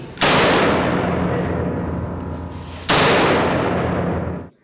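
Two loud close gunshots during a tactical team shooting exercise on targets, each a sharp blast followed by a long decaying reverberant tail, about three seconds apart.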